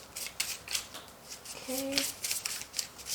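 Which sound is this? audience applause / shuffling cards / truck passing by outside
shuffling cards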